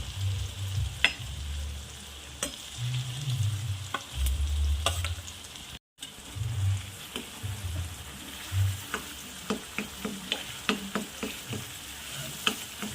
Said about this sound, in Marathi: छान मिक्स करून घ्यायचं याला छान तेलामध्ये मसाला